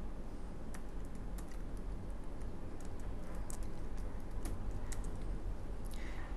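Someone types code on a computer keyboard in an otherwise quiet room, producing soft, irregular clicks that run steadily through the whole stretch.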